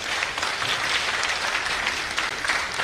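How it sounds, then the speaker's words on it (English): A crowd claps for a minister at a live event in the National Theatre, a continuous, even wash of applause from many hands, moderately loud and held throughout without voices over it. "Please give a round of applause."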